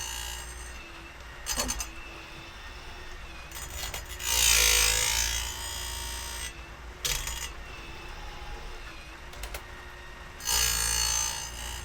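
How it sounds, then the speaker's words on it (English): A Woodland Mills RCS28pro chainsaw chain sharpener grinds a chain in short bursts, with several brief high scraping passes and rattling clicks over a low steady hum, close by. "We're just sitting here watching chains sharpen."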